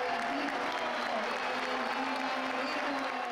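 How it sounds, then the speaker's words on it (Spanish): A stadium crowd at a Boca Juniors versus River Plate superclásico roars in a sustained ovation for Boca's starting striker Benedetto, a broad distant wash of cheering and clapping with no clear voice on top. "Ovación para el 9 titular"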